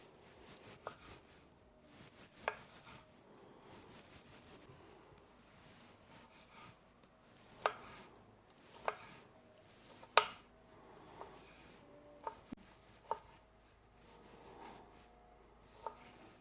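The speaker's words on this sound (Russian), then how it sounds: "Теперь мелкими кусочками нарежу спелые помидоры." A knife chops ripe tomatoes into small pieces on a board while preparing a hot fish cake: irregular, sharp, fairly faint taps spaced a second or two apart over a quiet kitchen background, with no talking.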